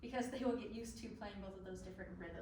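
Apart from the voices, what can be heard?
No everyday noises stand out.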